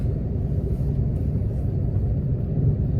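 Heavy rush-hour road traffic makes a constant, deep, muffled rumble of engines, close and even throughout with no horns or voices.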